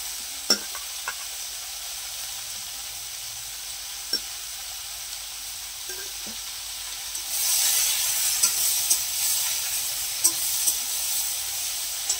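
Water spinach greens frying in a little oil in a wok, giving a soft hiss that swells into a brighter, louder sizzle halfway through, with occasional light utensil knocks and no talk.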